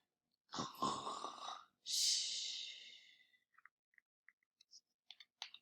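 A voice imitates a snore: a long rasping inhale then a breathy exhale, followed by a few small clicks and mouth sounds, fairly quiet and close.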